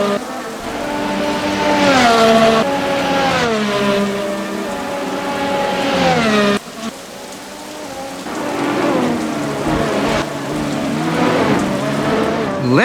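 Max Verstappen's Formula 1 race car accelerating onto the straight to finish first at the 2024 Bahrain Grand Prix: a loud, high engine whine with pitch sweeping up and down over a continuous roar of broadband noise.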